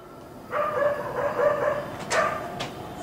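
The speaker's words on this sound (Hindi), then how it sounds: "कुत्ते किसको देख के भौंक रहे हैं?" A dog gives a drawn-out bark or howl, followed by a couple of shorter yelps. It sounds fairly close and rises above quiet surroundings.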